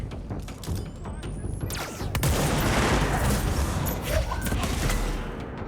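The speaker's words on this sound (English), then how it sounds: "I hear gunfire." Sustained bursts of gunfire with thuds and booms during a firefight in the video game Control, rising to a loud, dense barrage midway and staying heavy to the end.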